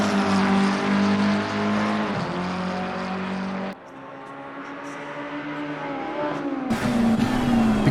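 Race car engines roaring in a sim racing game, a loud, sustained high-revving drone that shifts pitch as the car accelerates and changes gear, with other cars nearby.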